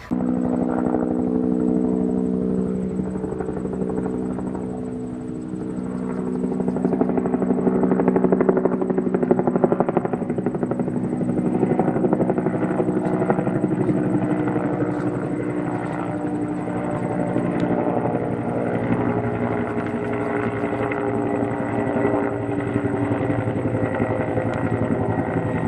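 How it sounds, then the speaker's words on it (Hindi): A helicopter taking off, a loud continuous engine and rotor drone with steady layered tones holding throughout, alone without talk. "हम तो जा रहे हैं हेलीकॉप्टर में बैठने"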